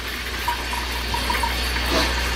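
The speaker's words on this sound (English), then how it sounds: "We got quite a bit of water coming out." Cold water gushing steadily from an RV faucet during winterizing with air, a continuous hissing splash with slight sputters near the end.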